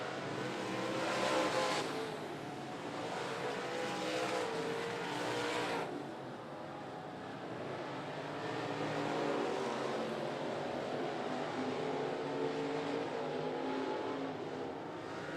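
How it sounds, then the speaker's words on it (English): Modified race cars lap a speedway on the final corners, a distant, fairly faint wash of engine roar swelling and fading as cars pass, with no voices. "2 more corners for Lewis in the modified."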